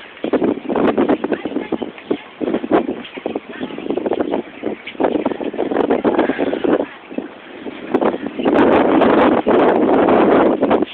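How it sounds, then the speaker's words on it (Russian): Wind blowing outdoors in Dubai, buffeting the microphone in loud, continuous gusts, with voices talking beneath it. "Здесь дует ветерок"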